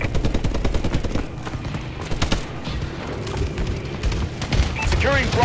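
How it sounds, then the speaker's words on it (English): Bombing run explosions and rapid gunfire in Call of Duty: Advanced Warfare, a loud dense barrage of shots and blasts with game voices talking over it. "Friendly bombing run clearing the way."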